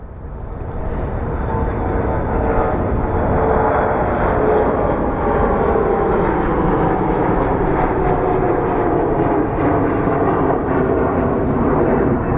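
Mesa Airlines airplane at Phoenix Sky Harbor airport, a loud sustained jet engine roar rising in from the start and holding steady throughout.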